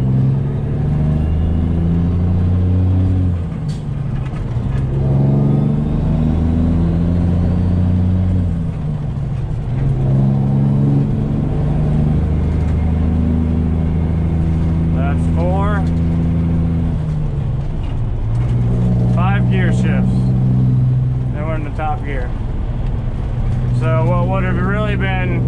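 Deep, loud rumble of a straight-piped Peterbilt 389 truck engine pulling a load on a snowy road, with revving and gear changes throughout, while someone talks over it.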